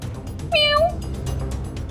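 A human voice imitates a cat's meow, giving one short, clear, rising-then-falling mew over quiet background noise.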